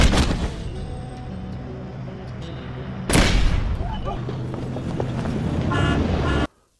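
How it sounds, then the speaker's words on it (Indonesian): Gunfire in an action film about a hired killer, heard as bursts of shots with sharp cracks and a loud impact about halfway through, all over a continuous score and effects until the sound cuts off abruptly near the end. "Castello langsung menembaki Fung dan anggotanya."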